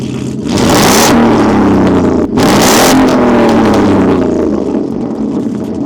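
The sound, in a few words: car exhaust revving close up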